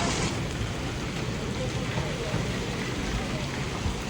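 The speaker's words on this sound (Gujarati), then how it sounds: "ચોટીલામાં કરા પડ્યા જોઈ લ્યો" Heavy hail and rain pour down in Chotila during a storm, in a steady, dense roar, a constant close wash of patter with no pauses for the whole stretch.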